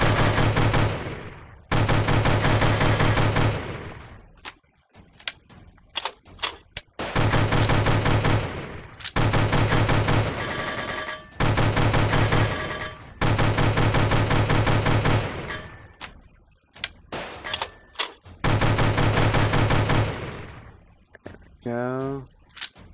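Gunfire from an unlimited-ammo weapon in the video game Soviet Soldier, long loud bursts of rapid automatic shots repeating with brief gaps between them, close and dominant throughout.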